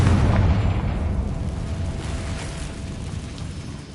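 A fiery Confringo blasting spell explodes in the Hogwarts Legacy video game, a heavy boom with a deep low-end thump that decays into a fading rumble over a few seconds.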